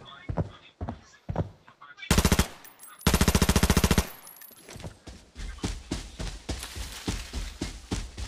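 Rapid machine gun bursts in a video game, several loud sustained volleys with single shots in between, played close and mixed with someone talking excitedly over the fight.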